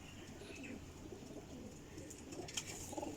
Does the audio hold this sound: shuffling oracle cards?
no